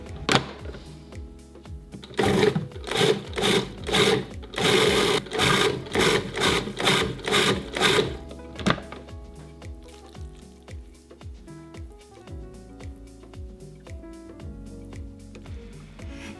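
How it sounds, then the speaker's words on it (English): A food processor whirs in loud repeated pulses while shredding two cans of hearts of palm, then settles into a quieter, steadier hum. "we're gonna add 2 cans of hearts of palm to the food processor, and then we're just gonna shred them"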